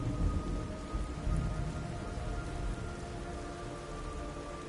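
Steady rain hisses and patters close by in the video game Metal Gear Solid 3, with a low rumble of thunder rolling underneath at moderate volume.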